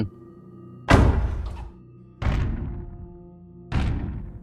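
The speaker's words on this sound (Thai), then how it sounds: "ประตูลั่นปังดังมีคนจับเวียงปิด" Three heavy door slams, spaced a second or so apart, each a loud close thud that rings briefly and fades.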